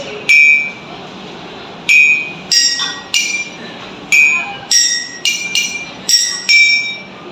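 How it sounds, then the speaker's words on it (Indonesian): A spoon taps drinking glasses holding different amounts of water, one full, one half full and one empty, giving about a dozen bright ringing clinks at uneven intervals, each with a clear sustained pitch that differs from glass to glass. "massa jenis air memengaruhi suara dari gelas yang dikeluarkan dari ketukan sendok"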